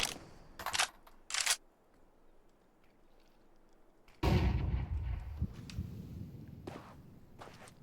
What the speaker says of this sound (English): They still exchanging fire.